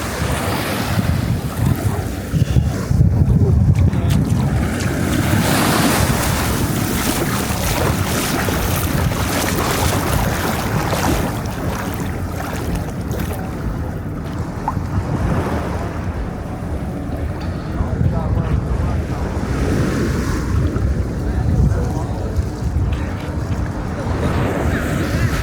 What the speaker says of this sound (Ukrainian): хочу показати вам, як виглядає море на Патонгу